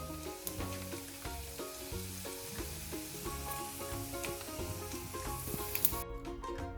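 Dried anchovies (nethili karuvadu) frying in hot oil give a continuous crackling sizzle with dense popping bubbles. It stays close and fairly even, with a brief louder burst near the end.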